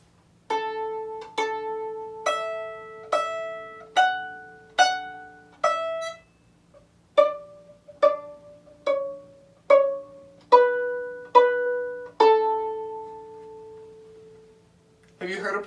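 A violin plays the opening line of Twinkle Twinkle Little Star in a beginner lesson: about fourteen clear bowed notes in steady rhythm, repeated pitches in pairs, ending on a longer held note, solo and close.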